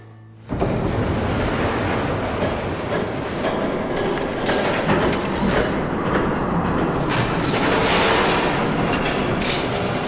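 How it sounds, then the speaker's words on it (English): A train in the Batman Telltale Series video game thunders past, rushing in suddenly and roaring loud and close for about ten seconds, with rumbling wheels and clattering cars. "There's a train coming. Take cover."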